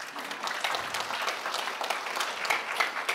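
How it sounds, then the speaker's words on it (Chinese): Audience applause fills a large hall during a Buddhist group practice evening, welcoming an ambassador and his wife, a steady, dense wash of clapping that holds at an even level throughout. "让我们以热烈的掌声欢迎廖东洲大使及夫人朱迪"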